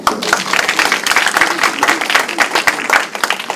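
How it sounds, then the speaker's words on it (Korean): Loud, dense applause from a lecture audience, with close sharp claps continuing steadily for a few seconds and a faint voice mixed in. "박수 한번 쳐야 돼요."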